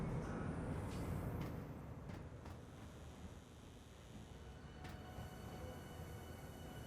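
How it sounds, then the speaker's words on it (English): Steady rumble of a train ride in the Star Citizen game at Lorville, a broad continuous roar with faint rail noise, quiet and distant throughout. "Here's our train."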